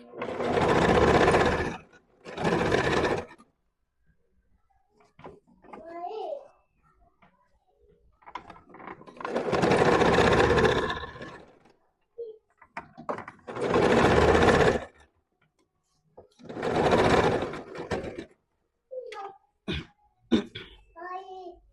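A home sewing machine stitches elastic into a pair of shorts in five loud, steady runs of one to three seconds each. Between runs there is a cough, a voice and soft handling noises.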